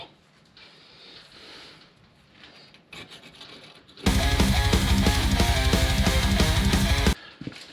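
Corrosion being sanded off a 2008 Chevrolet Impala wheel hub with 320-grit sandpaper: a close, loud, rapid raspy rubbing that runs for about three seconds, with quieter scraping beforehand.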